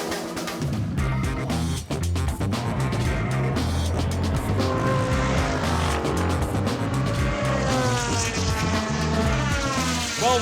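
Le Mans prototype race cars, Audis and Peugeots, scream past one after another, engine notes rising and falling as they pass close by, loud and continuous.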